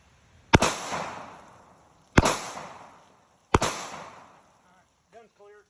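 Three loud, sharp gunshots fired one after another, roughly a second and a half apart, each with a long echoing tail, as hollow-point HST rounds from a .40 and a 9mm pistol are shot into a truck door outdoors; a brief faint voice follows.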